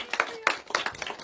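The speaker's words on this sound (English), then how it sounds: "everybody give a round of applause" Scattered clapping from a small audience at a medical talk, a handful of distinct sharp claps in an uneven rhythm, fairly close and brief.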